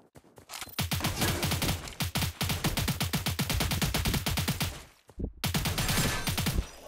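Sustained automatic gunfire in the video game Cyber Hunter, a long run of evenly spaced loud shots that breaks off briefly near the end and then resumes for a final burst.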